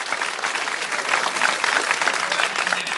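Applause from a live stand-up comedy audience, a dense, steady wash of clapping that holds for several seconds with no talking over it.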